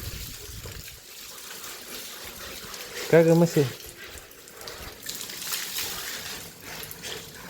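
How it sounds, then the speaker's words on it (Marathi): Water hisses and splashes as it is sprayed onto a buffalo during washing, a steady wet rush under a person speaking nearby. "त्याच्या अंगावरती पाणी मारायचं चालू आहे बघा."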